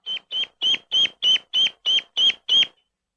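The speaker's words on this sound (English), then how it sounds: "the bird gets its bearings and makes what sounds like a distress call" A newly hatched duckling in a bare imprinting test enclosure repeats a loud, shrill peep nine times at an even, steady rhythm, close up and with no other sound.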